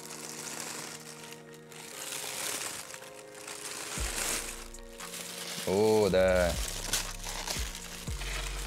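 Protective plastic bag from a Spider-Man 2 PS5 collector's box crinkles and rustles close up, with a voice talking briefly over it.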